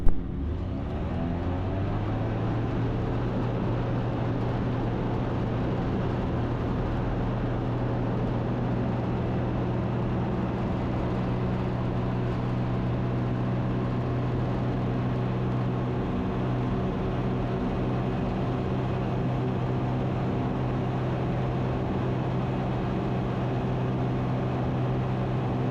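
A steady, loud drone from the engine of an Ikarus C42 light aircraft at takeoff power, holding an even hum with no break from start to finish.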